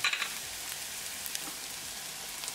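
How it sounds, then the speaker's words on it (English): Onions and spices sizzle steadily in a pan while a fish masala is cooked, a soft continuous frying hiss with faint stirring scrapes, close and fairly quiet, with no voices. "Cook until the onions are nicely translucent."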